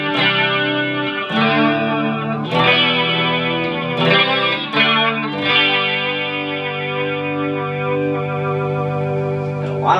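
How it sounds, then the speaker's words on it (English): Electric guitar through the flanger effect of a Marshall MG15HCFX mini stack amp, ringing chords with a swirling, sweeping metallic shimmer and distorted edge, played loud and close over ten seconds without talk. "So then we have our flanger in here."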